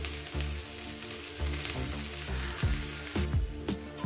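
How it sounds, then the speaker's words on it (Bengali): Okra (ladies finger) and egg fry in a pan with a steady, close sizzle, broken by a few soft clinks and stirring scrapes throughout. "প্রায় 4 মিনিট আমি ভেজে নেব।"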